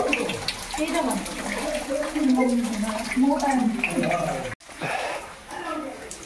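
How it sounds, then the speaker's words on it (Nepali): Water drips and leaks inside a waterfall cave at Cherrapunji, a steady wet trickle running beneath almost constant close conversation. "हेर चुहेको पानी"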